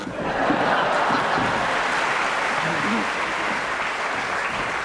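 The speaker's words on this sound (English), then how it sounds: "that extra loud round of applause was because Tony Hawks did get up and actually leave" A studio audience at a panel game breaks into an extra loud, sustained round of applause, dense and even throughout, with some voices mixed in.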